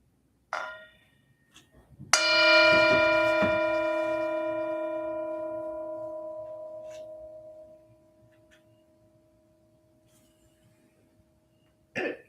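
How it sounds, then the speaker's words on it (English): A single mindfulness bell struck once during an Ash Wednesday service rings out bright and clear, its tone sustaining and slowly fading over several seconds in a quiet room, with a few soft coughs or throat noises around it. "Enjoy this moment, the sound of the bell."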